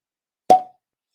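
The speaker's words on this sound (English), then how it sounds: "quiet on the set for the cork pop" A cork pops from a bottle of Kentucky Peerless whiskey, a single sharp, hollow plop with a short ringing tail, alone in silence.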